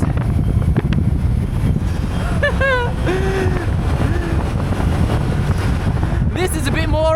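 Strong wind roars across an open Caterham 170S sports car on the move, a loud, steady broadband rush with a low rumble throughout, while a person's voice exclaims over it.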